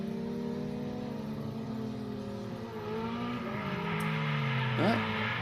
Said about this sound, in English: Both competitors do a slight brake jab right there, locking up their front rights a little bit, causing a little bit of smoke